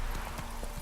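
A horse gallops in The Witcher 3: Wild Hunt with a rapid run of clip-clopping hoofbeats, close and fairly loud over a busy outdoor game background.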